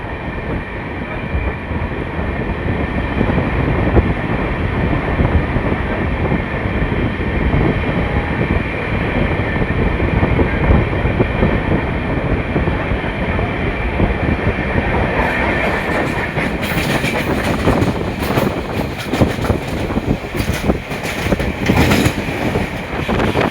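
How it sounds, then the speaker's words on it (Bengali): The Howrah Digha Tamralipta Express runs on after leaving Uluberia, a dense continuous roar of wheels on rails heard from aboard, with rhythmic clatter that grows sharper and busier in the later seconds and no voices. "উলুবেড়িয়া ছেড়ে ট্রেন চলে যাচ্ছে"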